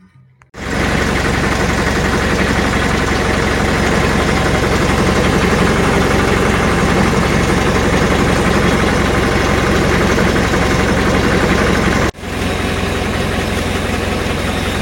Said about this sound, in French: Je sais pas si on va m'entendre parce que le moteur il démarre